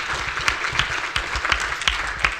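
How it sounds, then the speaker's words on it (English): An audience at a healthcare panel discussion gives a round of applause for a panelist, loud, close clapping with distinct sharp claps popping out of the steady roar. "Give him a round of applause."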